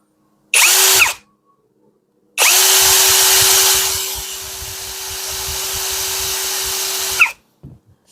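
VRILL cordless hammer drill running at speed 2, loud and close: a short burst, a pause, then a long steady whine of about five seconds that ends abruptly.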